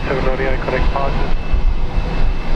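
A plane on the runway at Brisbane International Airport roars with a steady, loud jet-engine rumble, while radio voices talk over it early on.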